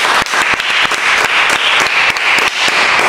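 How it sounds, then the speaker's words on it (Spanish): Loud audience applause for Marbella on a Spanish program, dense close clapping with distinct sharp individual claps popping out of the steady wash, continuing without a break. "vamos a dar un aplauso para Marbella"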